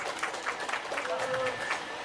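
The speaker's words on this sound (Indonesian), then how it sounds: "Tepuk tangan untuk Bapak Manuver Putra Firdaus." Applause for an honoured guest at the closing ceremony of the Manufer Super League tournament, heard as quick, rhythmic bursts of clapping at moderate loudness, with voices mixed in throughout.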